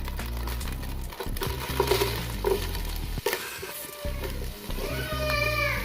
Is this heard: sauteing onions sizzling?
yes